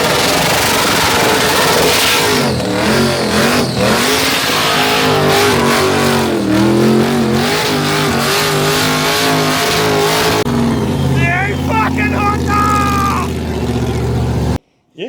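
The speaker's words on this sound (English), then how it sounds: "I think his car's probably the most aggressive sounding car in the whole comps" A competition car with an aggressive sound, later fitted with a blower, revs loudly and close by in sustained roaring bursts, then settles into a rougher idle near the end, with no voices over it.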